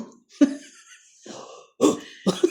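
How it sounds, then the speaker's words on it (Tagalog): A person coughs and clears their throat in several close, separate bursts with short pauses between them. "Inuubo."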